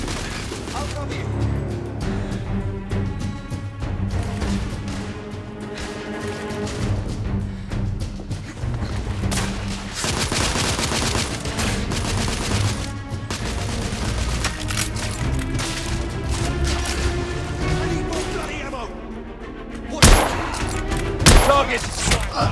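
Rapid gunfire from The Order: 1886 pounds steadily throughout, with dense bursts and a couple of heavy louder blasts near the end, mixed with game shouting.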